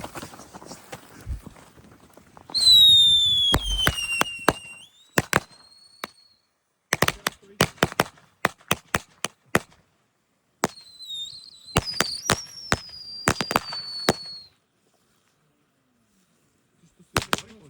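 New Year's Eve pyrotechnics: spinning fireworks whistle with long shrill rising tones while firecrackers go off in many sharp, loud bangs, some in rapid bursts and some spaced out, with quiet gaps between.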